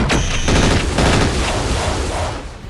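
Rapid weapon fire and explosions rage through a BattleTech battle as a Timberwolf mech unloads an alpha strike on a King Crab mech, a loud, dense barrage of gunfire and booms with no talking.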